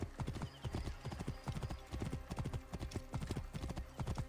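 Rapid, rhythmic hoofbeats of a galloping horse in the video game Assassin's Creed Origins, a steady close clatter of quick repeated thuds with no one speaking over it.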